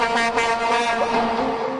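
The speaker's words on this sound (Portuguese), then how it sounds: "Eu acordo à noite com essa bendita buzina" A loud, sustained horn blast with a steady harmonic tone, blaring continuously without a break for the whole stretch.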